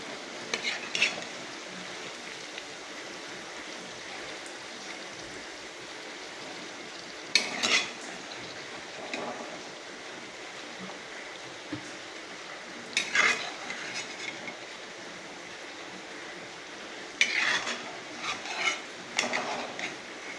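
Fried chicken sizzles gently in a pan while a utensil stirs and scrapes at intervals, with occasional clinks of metal as pieces are moved into a bowl; no one speaks.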